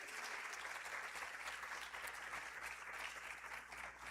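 A celebration crowd breaks into applause after a matching challenge announcement, with continuous, fairly quiet clapping for about four seconds and no voices over it.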